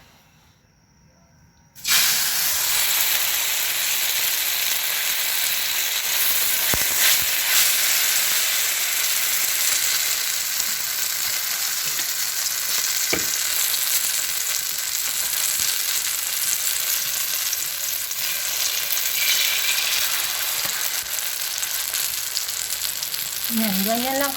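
Eggplant drops into a little oil in a pan and fries with an immediate, loud, continuous sizzle and hiss that holds steady for the rest of the stretch.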